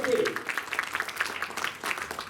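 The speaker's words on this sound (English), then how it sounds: "give her a round of applause, ladies and gentlemen" Scattered applause from a crowd at the KL JAMM music festival, fairly faint and uneven clapping with voices over it.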